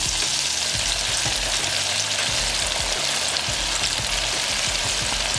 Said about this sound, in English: now let's get into frying